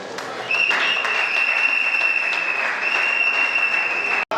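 An audience applauds at a ceremony honouring graduates of a training programme, a sustained, dense wash of clapping that swells in after a brief moment and carries on steadily throughout, with a faint tonal hum running underneath.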